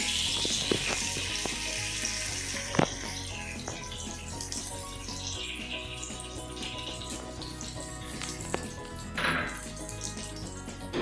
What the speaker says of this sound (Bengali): তেলটা একটু গরম হয়েছে, আমরা শুকনো লঙ্কাটা দিয়ে দিই, সাথে আমরা এই তেজপাতাটাও দিয়ে দেবো, আর এই যে কালো জিরেও সব দিয়ে দিচ্ছি।